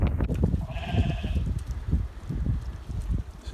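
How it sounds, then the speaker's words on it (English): Ewes eating haylage on a snowy Pembrokeshire farm: close, busy munching and rustling throughout, with one short sheep bleat near the start. "So you can see the ewes are just happily getting into the haylage."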